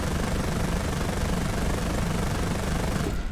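Helicopter engine and rotor in War Thunder, a dense continuous loud roar with broadband noise, steady throughout without distinct blade chop and cutting slightly at the very end, no voices.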